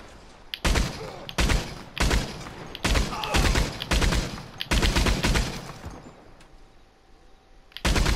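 A Maxim gun fires in Red Dead Redemption 2 Online, loud rapid bursts of machine-gun fire coming in several long strings separated by short pauses, close and booming.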